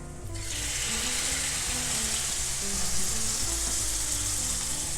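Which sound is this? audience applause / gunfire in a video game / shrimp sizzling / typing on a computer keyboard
shrimp sizzling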